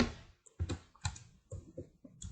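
Keys clatter on a computer keyboard in short, irregular bursts of clicks, close and fairly quiet, with no talking over them.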